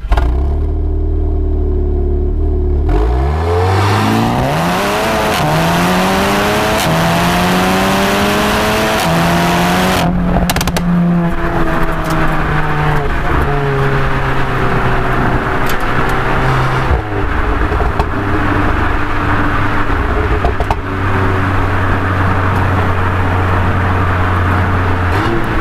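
Tuned 395 hp VW Golf R MK7 with a stainless steel exhaust and APR downpipe revs hard, loud and close, the engine note climbing and falling through repeated blips before settling into a steady drone.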